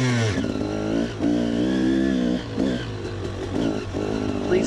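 Motocross motorcycles racing on an enduro trail and motocross track at Klein-Krotzenburg, engines revving and roaring loudly and close, with pitch rising and falling as the bikes accelerate and shift.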